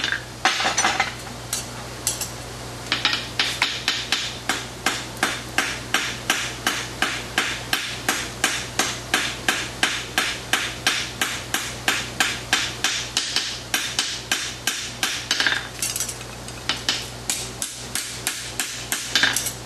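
A hammer strikes a horseshoe on an anvil in a farrier's shop, ringing metallic blows repeated in a fast, steady rhythm of many strikes, close and loud, with brief pauses between runs and no talking.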